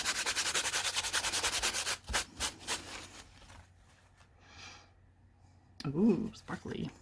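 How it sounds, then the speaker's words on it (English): A paper towel scrubs excess sparkle off a craft surface in fast, rhythmic rubbing strokes, then a few slower wipes. A person talks quietly near the end. "Just scrub off any excess and scrub off the sparkly sparkle that's everywhere."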